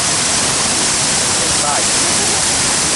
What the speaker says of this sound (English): we are visiting these waterfalls together